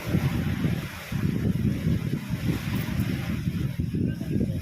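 Steady wind blustering across the microphone at the seashore at high tide, with low rumbling gusts throughout and no voices.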